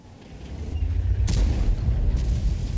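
A tank cannon fires on the Westfield map in World of Tanks: a deep, swelling boom with a sharp crack near the middle, then a sustained low rumble that lingers to the end.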